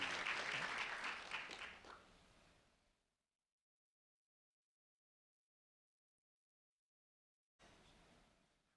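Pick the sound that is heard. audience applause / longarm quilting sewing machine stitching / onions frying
audience applause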